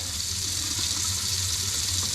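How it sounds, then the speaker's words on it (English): Tap water runs steadily over a frozen, packaged corned beef in a sink, a continuous close hiss and splash with no talking. "Alright, so I just ran some water over it just to loosen the packaging up from the meat."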